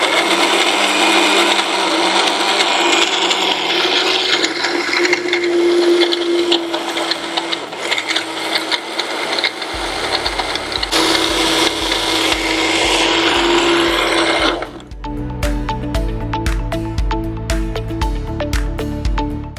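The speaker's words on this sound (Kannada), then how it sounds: "ಈಗ ಮಿಕ್ಸಿ ಮಾಡ್ಕೊಳ್ಳೋಣ" An electric mixer blending an oats milkshake, a loud steady motor whir with churning grind, the pitch shifting partway through and then stepping down to a lower, rougher drone.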